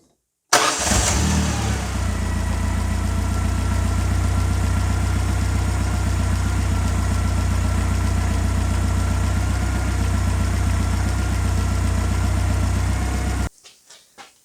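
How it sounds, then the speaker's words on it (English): A 1988 Ford Escort engine cranks, catches and settles into a loud, steady idle that runs for about thirteen seconds before cutting out abruptly, close to the car. "engine oil cap on now, get it started up and let it get warm,"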